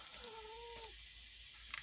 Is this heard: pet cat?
yes